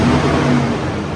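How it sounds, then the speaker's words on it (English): A 2021 Toyota Tundra engine runs with a loud, close, broadband rumble right as it catches, a brief steady roar with no talk. "Now we can successfully start our vehicle"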